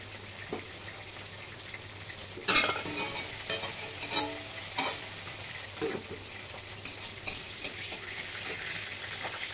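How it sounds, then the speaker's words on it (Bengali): Prawns frying in oil in a covered pan make a soft, even sizzle with scattered sharp pops and spatters, and a faint low hum underneath. "একটু ঢেকে দিয়ে বন্ধুরা ভেজে নেব ভালোভাবে।"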